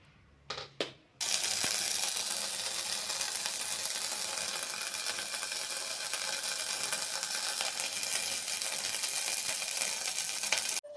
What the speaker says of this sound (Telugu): నెయ్యి అయితే తయారు చేస్తున్నాను.